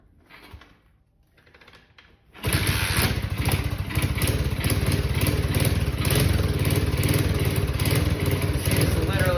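After a few quiet seconds of faint fiddling, a mini quad's small engine catches and starts, then runs steadily with a buzzy, rattling idle.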